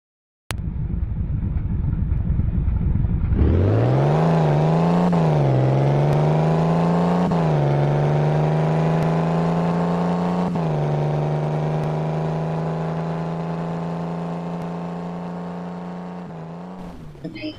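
Rolls Royce and Lamborghini Urus engines in Extreme Car Driving Simulator start abruptly and then hold a sustained, droning rev, close and loud, with small pitch shifts and a slow fade near the end.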